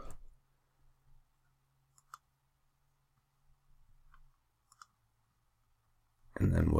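Computer mouse clicks while working in ordering software, a few sparse, sharp, close clicks spread over quiet moments with a faint hum, then a burst of louder noise at the end.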